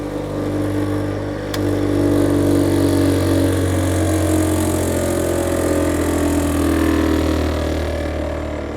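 A large stone-cutting machine runs at full speed, a loud, steady mechanical drone and hum holding constant with slight swells, alone with no voices.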